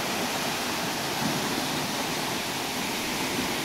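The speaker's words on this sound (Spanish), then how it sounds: "Esta es la gran cascada, amigos." A large waterfall at Santo Tomás Ocotepec in Oaxaca roars as a steady, dense wash of falling water, constant and loud throughout with no other sounds standing out.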